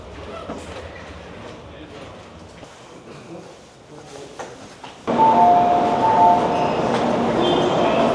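A Japanese Shinkansen bullet train rolls into a station: the quiet, echoing hall gives way to a loud, steady rumble with a high metallic squeal of brakes.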